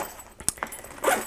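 Zipper being pulled closed on a military-style tactical backpack, a few short scraping zips and soft fabric rustles with a brief rasping run near the end, close and quiet.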